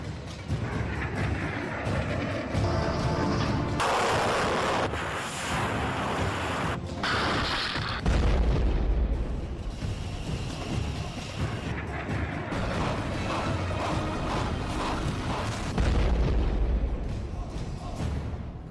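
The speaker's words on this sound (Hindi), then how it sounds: "इसीलिए रूस ने यूक्रेन पर भयानक मिसाइलों से हमला कर दिया।" Russian missile strikes on Ukrainian residential areas, including a six-ton X-22 missile, bring loud booms and heavy rumbling blasts, with a couple of deep low-end thuds standing out amid dense, chaotic noise.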